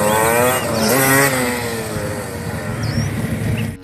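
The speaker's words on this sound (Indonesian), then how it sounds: "ini motor Vespa" Engine revving of a Vespa motorcycle heard with a toy, a continuous rising and falling buzzy drone, loud and close, with no talk.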